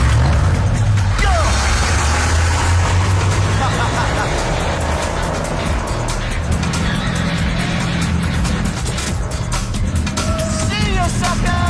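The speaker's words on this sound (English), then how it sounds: "we challenged this big lift 4x4 with major attitude, riding on a set of aired-down dune tires" A big lifted 4x4 on aired-down dune tires drives hard, its engine roaring loud and steady close by with wind and tire noise, while voices shout over it.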